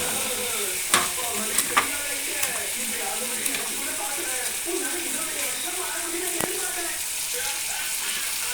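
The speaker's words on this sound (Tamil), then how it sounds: "இப்போ மிளகாத்தூள் போட்டு ஒரு 2-3 மினிட்ஸ் அது வதங்கட்டும்." Eggplant fries with chilli powder in a pan, a steady crackling sizzle punctuated by a few sharp spoon taps, close and fairly loud, with a voice talking faintly underneath.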